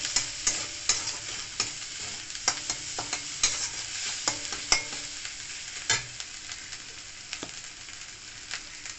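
Turmeric frying in a pan for a red amaranth leaf dish, a soft steady sizzle under repeated sharp scrapes and clicks of a spatula stirring against the pan.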